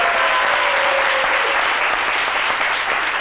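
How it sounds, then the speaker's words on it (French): Studio audience on an RTI television show applauds a guest, a loud, dense and continuous burst of clapping filling the whole moment. "que je vous demande d'applaudir également."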